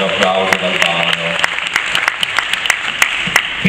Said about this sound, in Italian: un applauso dal palco